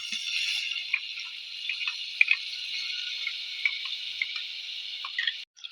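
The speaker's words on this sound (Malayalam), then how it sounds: "കുറച്ചും കൂടെ വെള്ളം ഒഴിച്ച് കൊടുക്കുന്നുണ്ട്" Water is poured into fish curry masala, giving a soft, continuous trickle with scattered small drips and bubbling pops that cut off abruptly at the end. The sound is faint and there is no talk.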